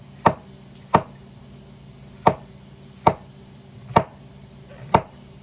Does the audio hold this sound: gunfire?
no